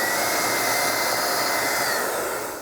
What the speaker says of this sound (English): This is the HomeRite Super Finish Max, a great beginner friendly sprayer.